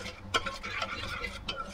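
A millet dish is stirred in a pot over low heat after a little water is added, with soft scraping and a few sharp clicks of the spoon against the pot, up close and brief.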